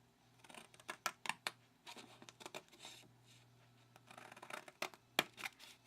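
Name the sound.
scissors cutting card along the score line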